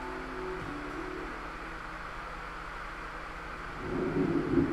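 Low rolling thunder in the video game Deadly Premonition 2, a steady distant rumble under faint tonal game ambience that swells louder near the end.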